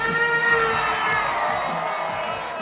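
A packed crowd at a Thai political rally cheers and shouts continuously, loud and dense, with whoops rising over the roar.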